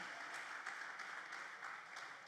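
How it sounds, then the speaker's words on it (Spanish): Church congregation applauding during a Spanish-language sermon, a steady wash of many hands clapping at moderate level, continuous and without talk. "Denle un aplauso al Señor por eso."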